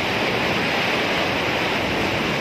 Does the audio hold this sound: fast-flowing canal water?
yes